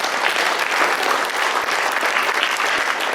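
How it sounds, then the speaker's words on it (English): Dense, steady audience applause at a chamber of commerce banquet, a room full of hands clapping evenly from start to finish with no voices over it. "Give them all a big round of applause."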